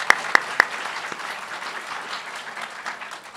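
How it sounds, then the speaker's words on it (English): Audience applause for two moot court finalists at a competition, a burst of clapping that opens with a few sharp, loud claps and then settles into a steady, moderate patter. "Let's have a round of applause for them."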